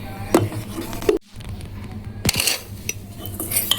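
A metal spoon scraping and clinking against a pan while milk mixed with custard powder is stirred, with repeated close scrapes and taps, a brief quiet pause, then more stirring.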